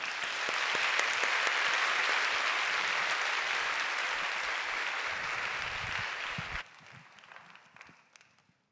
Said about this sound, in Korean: 목사님 가정을 축복하고 환영하는 마음으로 우리 박수로 모시도록 하겠습니다.